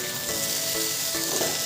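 Potatoes frying in a pan give a steady, close sizzle with faint stirring scrapes underneath, continuous and fairly even throughout with no voices.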